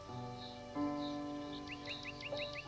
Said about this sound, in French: Tu profites de cet instant pour écouter les chants d'oiseaux qui traversent le jardin